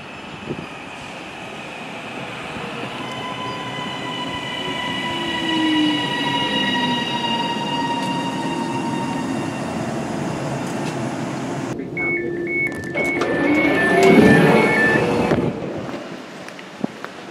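Northern passenger service running toward Doncaster on the Wakefield Line near South Elmsall: steady rolling rumble of train and wheels throughout, swelling louder near the end with a brief high squeal or whine.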